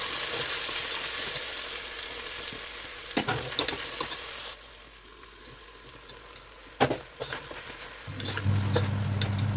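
Mushroom and vegetable pieces fry in a pan for a rice mushroom biryani, giving a steady sizzle broken by several clattering stirs and a low hum near the end.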